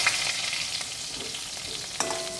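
Stuffed pointed gourds (potol) fry in hot oil with a steady, close hiss and sizzle, joined by one clear utensil knock near the end, with no one talking.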